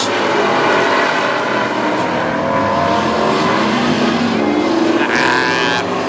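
WISSOTA Midwest Modified race cars roar around Princeton Speedway during a heat race, a loud continuous engine drone from the pack of cars with a brief rise as one passes near.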